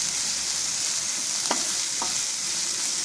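Prawn bun filling being stirred in a hot pan, a steady frying sizzle throughout with a couple of soft scraping strokes of the spoon, no talking.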